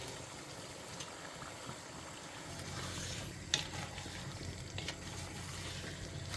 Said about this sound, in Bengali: এরপর এখানে মশলা কষিয়ে দিয়ে দিচ্ছি আমি জাম্বো চিংড়ি মাছ